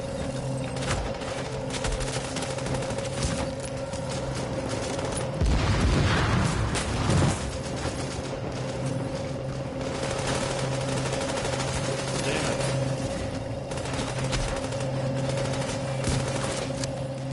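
Gunfire in The Division during a legendary mission, with rapid bursts and shots crackling steadily over a loud, busy game mix and a heavier thump near the middle.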